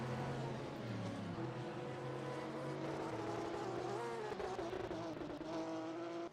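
GT3 race cars at Brno in a sim racing game, a green Porsche among them, with engines droning loudly and steadily throughout and pitch shifting as the cars change gear.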